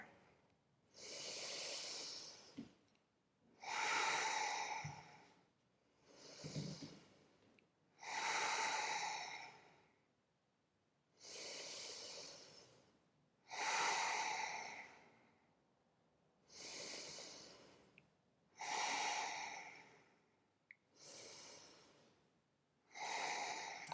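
Deep, slow breathing while holding a yoga warrior one pose in a vinyasa flow session, about five long inhale-exhale cycles of close, airy breath, alone with no talk.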